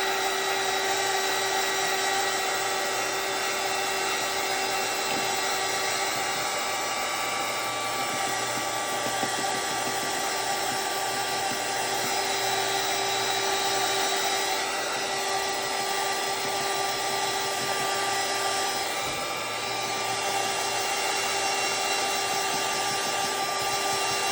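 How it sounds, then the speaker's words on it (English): A hair dryer blows continuously at a steady, loud whine and rush of air, unbroken for the whole duration with no voices. "Now I'm going to get my air dryer and I'm just going to hit it with some heat."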